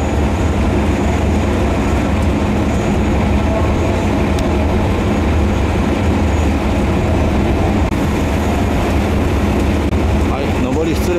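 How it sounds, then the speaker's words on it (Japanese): A train hauled by a diesel locomotive pulls out of a station in southern Thailand with a loud, continuous rumble and rattle of wheels and cars, close by and unbroken throughout. "列車が発車していきました。"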